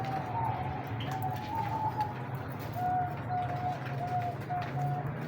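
White-tailed common doves in a cage give soft, repeated cooing calls at moderate distance. Faint chirps and light background noise from the aviary sit underneath.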